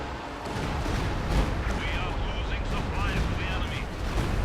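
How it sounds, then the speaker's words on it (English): Rumbling StuG III artillery barrage in Company of Heroes 2, dense booming battle noise throughout with a caster talking over it. "another Stug III barrage"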